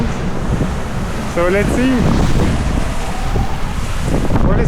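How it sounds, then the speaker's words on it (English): Strong wind buffets the microphone over ocean waves during an Atlantic sailing crossing amid squalls, a steady loud rush with a brief spoken remark partway through. "With some waves and some clouds and some wind."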